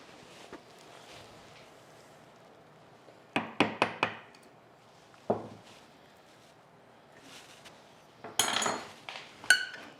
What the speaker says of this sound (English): I'm going to have to chisel that out